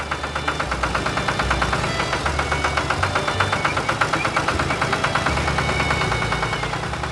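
Animated tractor and excavator engines run together, giving a loud, steady chugging idle with a regular knocking pulse that keeps on without pause.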